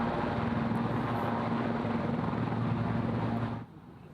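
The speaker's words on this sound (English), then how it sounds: "opting to arrive in a helicopter rather than the old sleigh" A helicopter arrives at BC Children's Hospital, with a steady loud rotor and engine drone that holds for about three and a half seconds and then cuts off sharply.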